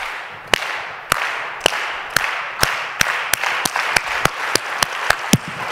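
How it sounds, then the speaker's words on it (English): Audience doing a slow clap to welcome a speaker to the stage, loud unison claps in a steady rhythm that speeds up gradually, with crowd murmur underneath. "we're going to slow clap and bring Béatrice on the stage"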